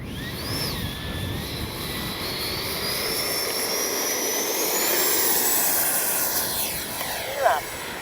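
A Freewing F9F-8 Cougar 80mm EDF RC jet spools up for takeoff on a windy day, its steady turbine whine rising and sweeping in pitch as it accelerates away, with a sharper burst near the end.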